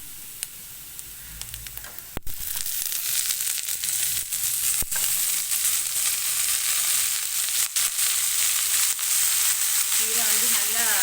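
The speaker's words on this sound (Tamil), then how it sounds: "நல்லா வதங்கிட்டு இப்போ நம்ம கீரையை போட்டுடலாம்" Ponnanganni greens hit a hot pan for a poriyal and break into a loud, steady sizzle after a few quiet clicks, with occasional scraping stirs under the continuous frying hiss.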